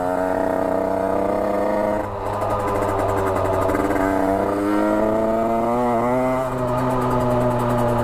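A 50cc motorcycle engine runs steadily while riding, its buzzing note rising and falling with gentle throttle changes over a continuous drone.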